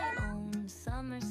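A cat meows twice in Langkawi, Malaysia: two close, clear, drawn-out calls a little over half a second apart, with no talking over them.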